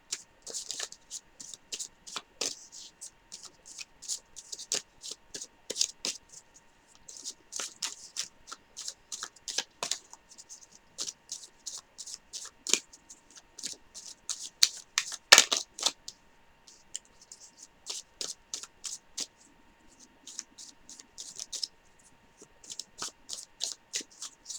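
Tarot cards are shuffled by hand in repeated crisp riffling bursts, with sharp taps and slaps between them, close and clear for the whole stretch, and no voices.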